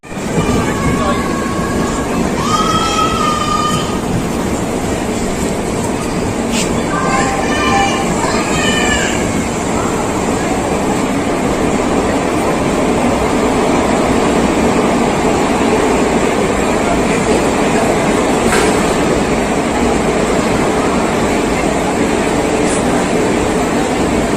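The Kanyakumari Superfast Express pulls out of Tambaram Junction with a steady, loud rail rumble throughout. Short wavering tonal sounds rise above it early on.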